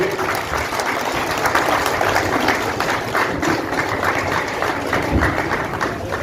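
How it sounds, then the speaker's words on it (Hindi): Sustained applause from a crowd at a pension rally district convention in Giridih, steady and dense throughout, with a low rumbling background underneath. "जोरदार ताली आपकी बजनी चाहिए।"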